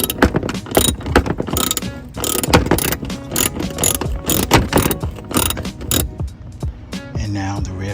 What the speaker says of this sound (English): Next, I removed the 8mm bolt under the fender.